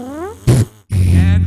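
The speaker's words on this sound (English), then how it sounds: "we in fact name our farts" A loud, buzzy fart sounds up close, one short burst followed after a brief gap by a longer sustained one, with talk just before it.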